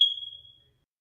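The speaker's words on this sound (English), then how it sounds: "Chirping smoke detector." A smoke detector gives a single high, thin chirp that starts sharply and fades out within about half a second, with silence around it.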